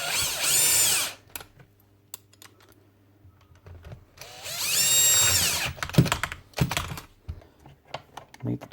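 A repaired old Hitachi hammer drill runs in two loud, sustained bursts separated by a quieter stretch of handling clatter and brief knocks, with a short pulse of low talk in the gap.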